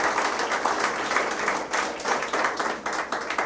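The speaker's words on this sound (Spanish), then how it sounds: "Denle un aplauso al Señor." A church congregation claps during a sermon, producing loud, dense, continuous applause with a busy rhythm that lasts throughout.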